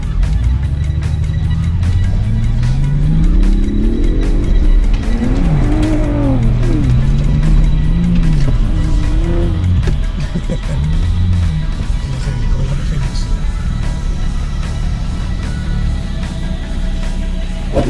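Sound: Ford Raptor pickup truck driving and revving

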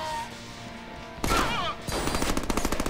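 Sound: shotgun firing in the Deadpool video game

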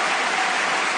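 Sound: crowd applause

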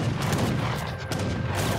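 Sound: musket gunfire in video game Age of Empires III

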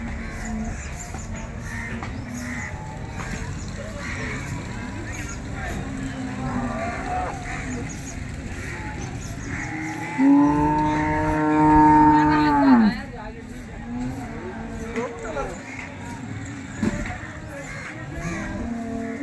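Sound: cows mooing at a cattle market

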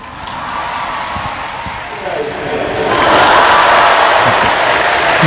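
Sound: crowd applauding and cheering in welcome

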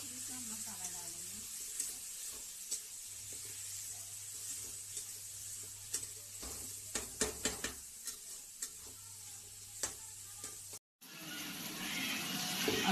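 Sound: tomato, garlic and ginger frying in a pan

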